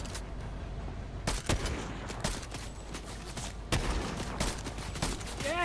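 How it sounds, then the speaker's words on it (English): Gunfire in a Fortnite-style battle royale game: several sharp, loud shots crack out at irregular intervals over a steady backdrop of game ambience. "Shooting from up there!"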